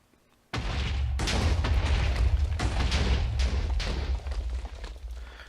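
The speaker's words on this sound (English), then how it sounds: "Oh, it's gonna explode." A Minecraft explosion erupts after a brief silence, a sudden loud blast that rolls into a sustained rumbling roar with crackling debris, holding steady for several seconds before easing slightly.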